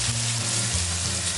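Chopped onions sizzle and fry in a pan for a beef stew in Mexico, a steady, close, broadband hiss with faint low rumbling and no pauses.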